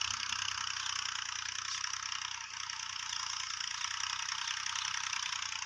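A steady tractor engine drone hums throughout at moderate distance while plowing a field, a continuous mechanical rumble with a brief dip midway and no voices.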